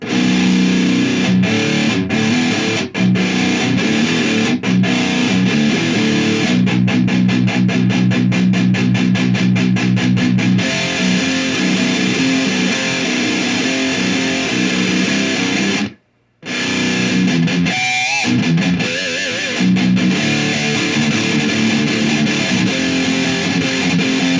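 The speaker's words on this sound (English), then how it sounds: "Let me turn on some normal cut, mid-cut distortion." An electric guitar plays through a Crate GS amp set to mid-cut distortion, giving a loud, dense, saturated tone with fast rhythmic palm-muted chugging. A brief silent gap falls partway through before heavy riffing resumes.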